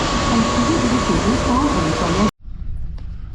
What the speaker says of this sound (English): 10:21 to Tangier, Albert high-speed train.